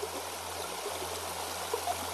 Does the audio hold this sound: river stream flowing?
yes